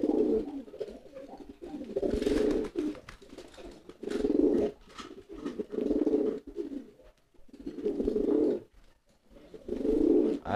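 Repeated low, throaty coos from a male pigeon in rolling bursts with short pauses between them, close and fairly loud.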